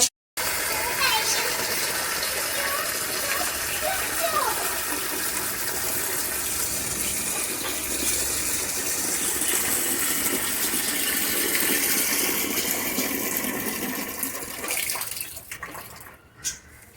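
Water gushes and splashes steadily for about fifteen seconds as it is poured out for pet pigeons, a continuous close running sound that tapers off and stops near the end.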